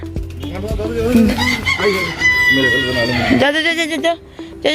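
A chicken on a rooftop crows and clucks loudly and close by, with harmonic calls running through most of the stretch, mixed with a voice talking.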